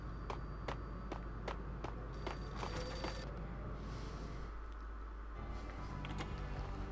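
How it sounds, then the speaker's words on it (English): A payphone rings in repeated evenly spaced bell bursts for about three seconds in the video game Max Payne, fairly faint over background game ambience, then stops; no talk is heard. "payphone started to ring."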